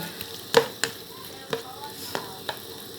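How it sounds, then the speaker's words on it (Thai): Pork belly is stir-fried with red curry paste and seasonings, as a spatula clacks against the pan in irregular knocks over a faint, continuous sizzle. "แล้วก็ผัดหมูกับพริกแกงกับเครื่องปรุงให้เข้ากัน"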